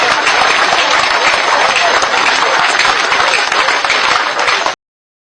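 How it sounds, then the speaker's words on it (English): Loud, dense clapping from a crowd at a Nigerian political address, a continuous roar of hands close by that cuts off abruptly just before the end. "Oh yeah, clap."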